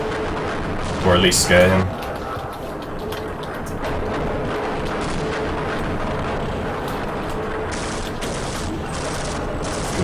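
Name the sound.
grenade explosion and gunfire in Half-Life: Opposing Force video game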